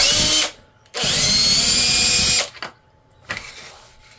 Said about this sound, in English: Just put that into my drill